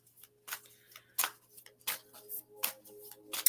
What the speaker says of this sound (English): So I'm just going to keep shuffling these cards.